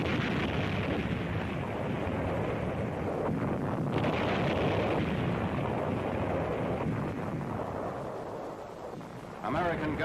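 American artillery guns massed in a university yard fire on enemy artillery positions, a continuous loud, dense roar of gunfire and blasts running throughout with no clear separate shots, dropping slightly near the end.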